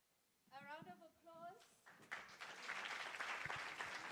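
Applause from an audience at a school teaching and learning festival, rising after a brief spoken phrase and continuing as steady broadband clapping through the rest of the moment.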